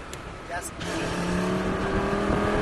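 A motorcycle on a racetrack opens up its throttle; after a brief quieter moment the engine note swells into a steady, loud, rising drone that carries to the end.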